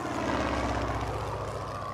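A propeller airplane engine drones steadily and loudly with a throbbing hum, heard up close inside a cartoon aircraft before a halo jump. No voices are heard.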